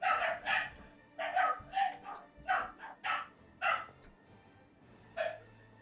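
Dogs bark repeatedly in the fantasy role-playing game Pathfinder: Wrath of the Righteous, a string of sharp, mid-distance woofs in uneven bursts with brief pauses, fairly clear and without talk over them.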